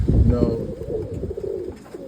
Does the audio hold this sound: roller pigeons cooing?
yes